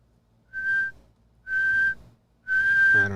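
A whistle is blown for halftime in three sharp, evenly spaced blasts of about half a second each. The blasts are close and clear, with no voices.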